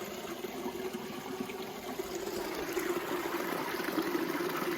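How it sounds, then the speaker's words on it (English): Brook water flows steadily around rocks, a close, continuous wash and trickle with no talk. "So I am literally sitting on a rock with water flowing around me"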